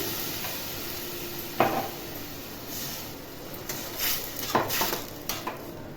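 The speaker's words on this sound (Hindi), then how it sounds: "अब मैं ये टोमेटो प्यूरी डाल दूँगी।" Tomato puree goes into a frying pan of sizzling capsicum for a vegetable Manchurian, with a steady close sizzle and a few sharp utensil clinks and stirring scrapes against the pan.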